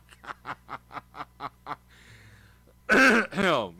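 A man mimics a duck over CB radio, letting out seven quick, evenly spaced quacks, followed by a brief radio tone and then two louder, drawn-out squawking quacks.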